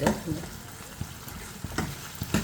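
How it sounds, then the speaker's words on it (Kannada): Green tomatoes frying in a pan on low heat, a soft sizzle punctuated by several sharp spoon scrapes and knocks against the pan. "ಚೆನ್ನಾಗಿ ಫ್ರೈ ಆಗಿದೆ"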